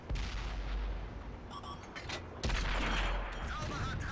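Tank cannon shots in the World of Tanks video game, two heavy booming blasts about a second apart, each with a rumbling tail, over a dense game background.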